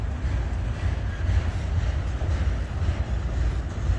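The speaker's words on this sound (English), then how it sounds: "Automotive freight train going by that hauls cars." A heavy automotive freight train hauling cars rumbles past nearby in Atlanta, a steady low roar with faint rattling of cars, continuous and unbroken throughout.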